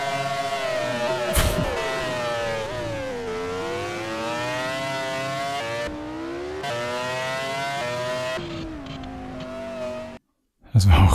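A race car in Grand Prix 4 runs at the Nürburgring. Its engine whines loud and close, and the pitch climbs and drops through gear shifts. A brief bang sounds near the start, and the engine note cuts out abruptly near the end.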